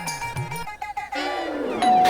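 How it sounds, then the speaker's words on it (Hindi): A two-tone ding-dong doorbell chime rings out in an animated story, followed by a sustained bright tone, with some muffled sounds in between. "डोरबेल दोबारा बजती है।"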